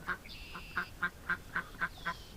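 A pet duck quacks in a steady series of about eight short, sharp calls at an even pace, close and clear with no talk over it.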